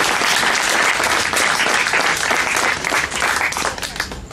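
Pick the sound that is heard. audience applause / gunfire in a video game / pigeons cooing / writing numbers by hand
audience applause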